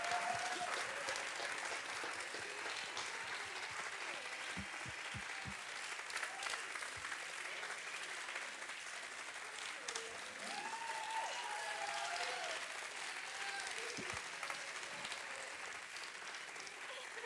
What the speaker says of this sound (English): please clap for Tel Aviv